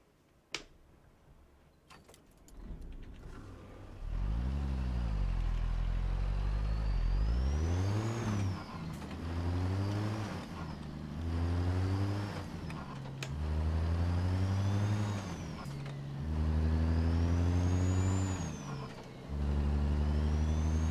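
A tuned 630 truck engine mod in a video game idles, then revs up and down repeatedly in long, loud, sustained pulls, with pitch climbing and falling through each throttle sweep.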